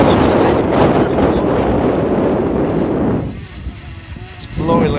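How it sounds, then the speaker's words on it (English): Strong wind buffets a Potensic Atom Mini 4K drone in flight, a loud roaring rush that drops away briefly near the end before surging back. "It's blowing like mad."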